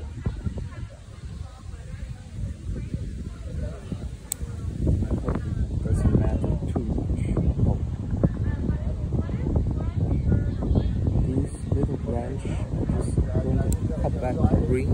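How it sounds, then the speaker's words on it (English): Strong outdoor wind buffets the microphone while someone prunes a rosemary bonsai, a rough low rumble that grows louder after the first few seconds and continues under a man's speech. "sound quality is probably pretty bad because the big wind"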